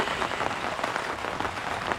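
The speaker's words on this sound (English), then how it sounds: "do you hear the rain?" Rain during a South Dakota thunderstorm in August, falling on a garden as a soft, even patter and hiss that stays at a fairly low level throughout.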